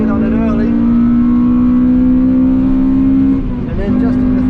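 A Honda Civic FN2 Type R, front-wheel drive, accelerates hard onto the straight at Luddenham Raceway, its engine droning loud and steady from inside the car, with a brief dip as a gear changes near the end, under a voice.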